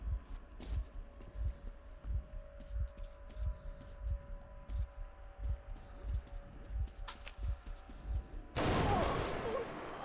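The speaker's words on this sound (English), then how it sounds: "Didn't hear it for the heartbeat." A slow, steady heartbeat pulses throughout in Metro Last Light Redux, with low thumps at an even rhythm under a faint hum, ending in a sudden loud burst of noise near the end.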